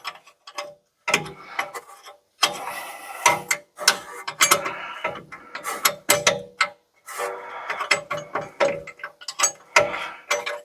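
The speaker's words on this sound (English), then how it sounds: "we'll start these off like we had to take them out, which was with the spanner" A spanner turns bolts on a Jaguar wheel hub in a tight space, giving repeated close scraping, ratcheting metal strokes in irregular bursts separated by short pauses.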